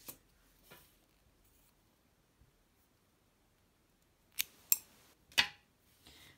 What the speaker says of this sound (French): je peux couper mon fil